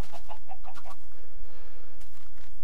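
Minecraft chickens give a quick run of clucks at the start over a steady low hum, followed by quieter game noise.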